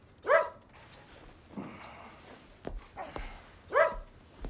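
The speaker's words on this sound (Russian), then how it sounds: "тявкаешь? Уйди, гадкая псина." A small dog named Pinkerton yaps twice, short sharp barks near the start and end, with softer rustling and thuds between them in a quiet room.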